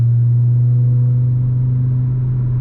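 2019 Audi RS3 engine accelerating, a steady loud low drone heard from inside the car, continuous without breaks and with no talk.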